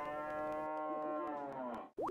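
A cow moos in the farming video game Harvest Moon: Sunshine Islands, one long, loud, sustained low call that rises in pitch at the end, heard alone without talk.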